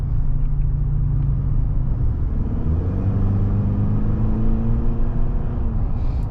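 A 2022 Chevy Silverado with a 2.7 engine and an 8-speed automatic drives along with a steady, loud cabin rumble, and the engine note rises through a gear as the truck accelerates.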